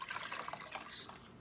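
Tangled hair dipped into a basin of conditioner water, giving a faint, soft wet sloshing and dripping with small splashes that run throughout, no voices present.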